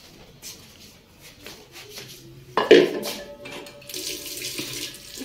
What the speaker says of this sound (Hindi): इसमें हम डालेंगे पानी